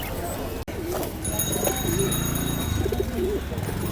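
Pigeons coo in short, warbling bursts at a busy pigeon market in Mirpur 14, heard amid crowd chatter and people talking close by.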